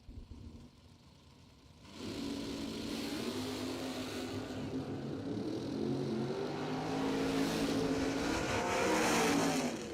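A second-generation Chevrolet Camaro drag car launches at a bracket racing event. The engine jumps from a low idle into a loud, sustained roar that builds and stays close and strong through the run.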